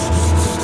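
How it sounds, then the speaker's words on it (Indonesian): Close, loud abrasive rubbing, one short steady stroke of sandpaper scraping across a yellowed plastic car headlight, with no voices. "jadi bagian yang menguning ini kalian amplas dulu ya."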